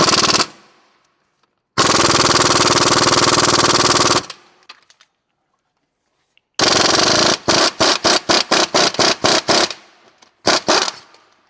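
An impact gun removes the strut nuts on a 2012-2017 Toyota Camry Hybrid 2.5L front suspension, with loud sustained rattling bursts followed by a run of short rapid hammering pulses and silent gaps between.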